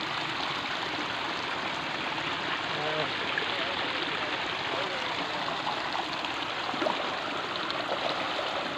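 Water pours steadily from an outlet like a small waterfall in a village park, a constant loud rushing splash that fills the whole stretch without pause.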